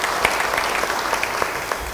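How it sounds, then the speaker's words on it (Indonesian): A church congregation claps together in a short burst of brisk, dense applause, loud and close, lasting about two seconds. "Beri tepuk tangan bagi dia."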